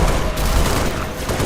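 Dense, continuous gunfire from a firefight in the video game Halo: Reach, a loud unbroken wash of rapid shots with no gaps.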